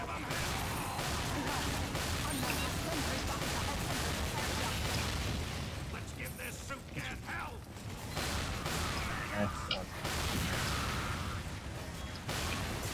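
Gunfire in Team Fortress 2 on a Spacepost map, dense overlapping shots and mechanical clatter running almost continuously, with brief lulls midway.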